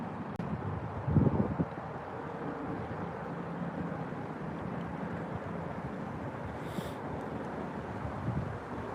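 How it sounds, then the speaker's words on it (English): Wind buffets the microphone outdoors while kayaking: a steady, low, blustery rumble holds throughout, close and continuous, with a brief brighter whoosh near the end. "that wind is just, it's getting me everywhere over here"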